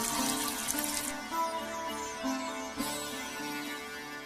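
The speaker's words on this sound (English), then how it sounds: "remember to wash your hands before and after eating food" Tap water runs and splashes into a sink as hands are washed, a close, continuous watery rush with small shifts in flow and a brief surge near the end.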